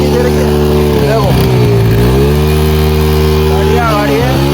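A motorcycle that had stood unused for two years runs at idle after being started, a steady engine hum with slight revving, under continuous talking nearby.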